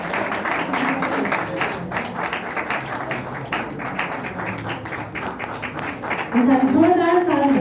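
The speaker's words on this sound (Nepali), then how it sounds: "जोरदार ताली बजाउनेछौँ।" An audience at a Christmas song launch event claps in a ragged, uneven patter with voices talking over it, growing louder toward the end as a voice rises above the clapping.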